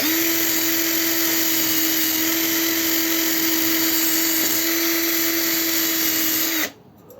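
A power drill whines at a steady high pitch with a gritty grinding hiss as it cleans rust off a nut on a Znen Tommy 125 scooter, running continuously nearby before abruptly stopping near the end.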